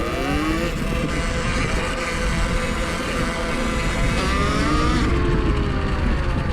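An Electric Motion trials motorcycle's electric motor whining up as the throttle opens, then dipping and rising again near the end, loud and close against steady mechanical noise.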